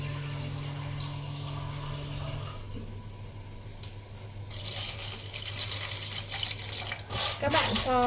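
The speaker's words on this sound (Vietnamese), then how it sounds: "Các bạn cho nước vào," Water poured into a rice cooker pot holding black beans, a steady splashing stream that grows louder and brighter toward the end, with a low hum earlier and some background voice.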